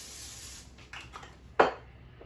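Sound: cooking spray sprayed into a hot pan

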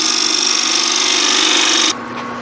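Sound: lathe marking cuts on wood tenon for twig vase

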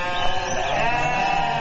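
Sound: sheep bleating

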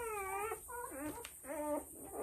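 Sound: Alabai and Belgian Malinois cross puppies whimpering

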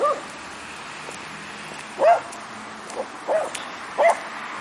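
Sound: dog barking

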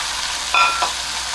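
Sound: fenugreek leaves frying in oil

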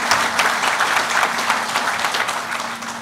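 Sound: applause for the judicial branch

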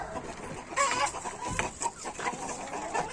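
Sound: Leghorn hens clucking in the garden

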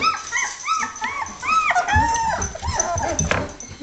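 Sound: 17-day-old puppies whimpering

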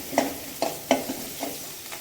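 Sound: onions and fennel tempering, sizzling in oil for curry

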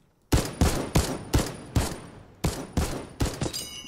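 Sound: gunfire from weapon in Fortnite video game

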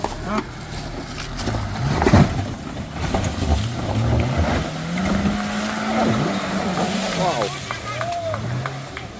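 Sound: Maruti Gypsy driving on extreme off-road track

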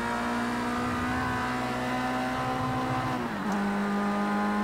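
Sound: Formula Rookie race car engine in video game Project CARS 2

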